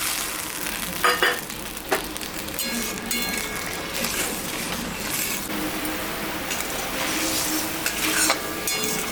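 Water with salt and turmeric coming to a boil in a pan for cooking fish; close, steady bubbling sizzle with occasional clinks of utensils against the pan, no talking.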